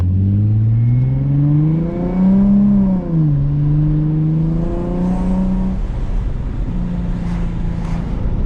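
Engine of a 2007 Infiniti G35 climbs and eases through several revs, loud and close, with a smooth tone that rises, dips and rises again from inside the car, and no one talking.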